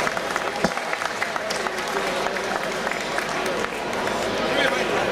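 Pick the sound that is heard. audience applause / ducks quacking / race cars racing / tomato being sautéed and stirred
audience applause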